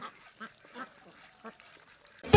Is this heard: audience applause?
no